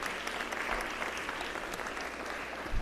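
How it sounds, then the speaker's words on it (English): Quiet, distant clapping from a school audience during a live-streamed township school event, a thin scattered patter lasting a few seconds with a low room rumble beneath. "We can clap for her"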